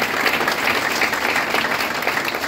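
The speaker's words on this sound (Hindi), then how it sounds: "एक बार इसके लिए जोरदार ताली बजाएं" A crowd at a direct-selling business event claps loudly and densely for a short, unbroken burst of applause with no speech over it.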